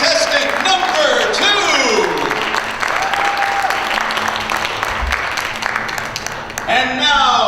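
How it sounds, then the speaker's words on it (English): An audience at a pageant bursts into loud, sustained applause for a contestant, dense clapping filling the room while a voice carries over it. "give her a very big round of applause"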